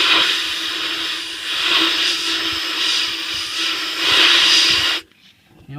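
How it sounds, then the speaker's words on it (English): Compressed air blasts out of the glow plug wells of a 1994-97 7.3 Powerstroke diesel, a loud, steady hiss pulsing slightly for about five seconds before stopping abruptly, followed by quiet shop ambience. "I'm taking a little bit of compressed air, and I'm just very, very gently"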